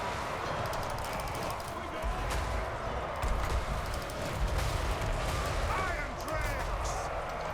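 Artillery and gunfire rumble through a fantasy battle as Grombrindal fights, a steady dense wash of distant booms and crackling shots, with voices talking over the din.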